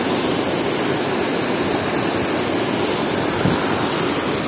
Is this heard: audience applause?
no